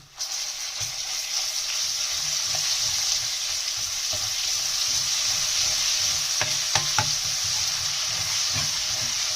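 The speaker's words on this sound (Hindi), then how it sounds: "अब स्लोली ये पहले जीरा और राई फ्राई होंगे और इसका फ्लेम जो है मैंने स्लो पे रखा है" Cumin and mustard seeds frying in a pan over a low flame for a cabbage, peas and potato curry, giving a steady, close sizzle throughout with a few sharp crackles and pops from the spices, no voices.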